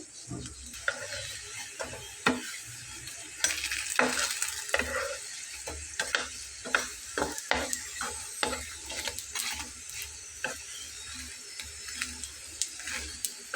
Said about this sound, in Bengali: কিন্তু দেখুন খুবই অল্প তেলে কিন্তু আমি এটাকে ভেজে নিচ্ছি।